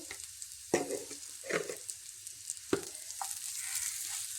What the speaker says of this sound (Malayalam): ഇതെല്ലാം കൂടി നമുക്കൊന്ന് ഇളക്കി കൊടുക്കാം.